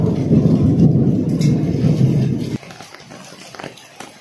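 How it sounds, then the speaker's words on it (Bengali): Heavy rain and large hailstones pour down as a dense, loud roar that drops abruptly to quieter patter with scattered impacts. "সাদা সাদা শিল পড়ছে আকাশ থেকে দুমদুম করে, শিলগুলো কিন্তু খুব বড় বড় পড়ছে"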